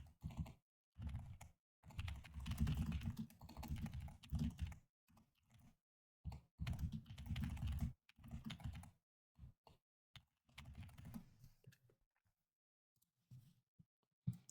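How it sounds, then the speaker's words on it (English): Fingers tap on a computer keyboard in quiet, close bursts of rapid keystrokes, broken by short pauses and a sparse trail of single clicks. "I'm going to type that up in predictions."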